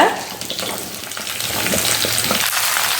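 Mixed vegetables frying with onions in a pan for a traditional vandikaran kuzhambu, a steady close sizzle with scattered stirring clatter, no talking.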